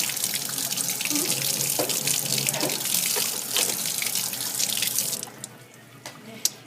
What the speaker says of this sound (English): Alright, so now we'll rinse this off under the sink.